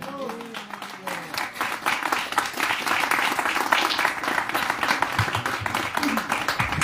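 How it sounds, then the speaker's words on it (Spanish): A church congregation claps and cheers together, a dense and sustained burst of applause that builds and carries on throughout. "Den un aplauso al Señor."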